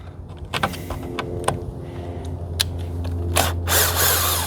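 On the 3.6L engine air filter housing of a 2026 Jeep Wrangler, a cordless drill set to low torque drives screws in short, close whirring bursts with small metallic clicks over a low steady hum.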